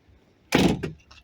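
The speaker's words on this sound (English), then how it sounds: "The door opens" Front door of a 2000 Toyota Avalon swinging on its hinges after a new exterior handle is fitted, giving one loud close thunk with a short rattle and a fainter follow-up sound, alone and nearby.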